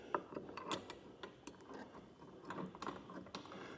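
An Allen key turns a bolt on a Yakima OutPost HD overland truck bed rack with tonneau cover adapters, giving faint close metallic clicks and light ratcheting scrapes at an irregular pace with no talking.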